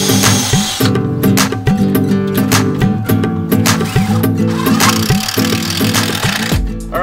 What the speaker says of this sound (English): now we're going to flip this over and put some more screws in from the bottom